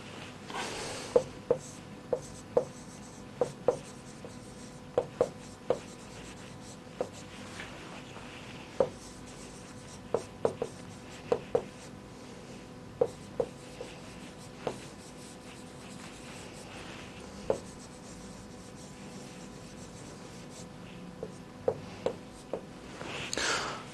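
A sentence is written by hand, and the writing sounds as light scratching with sharp, sparse taps spread through a quiet stretch.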